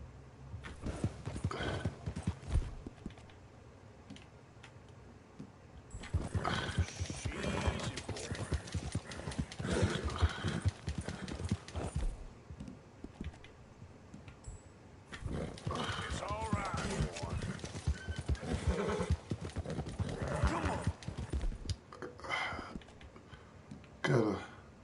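A horse gallops in Red Dead Redemption 2, with steady rapid hoofbeats running loud and continuous, broken by a neigh and by short lulls, while a voice talks over the top.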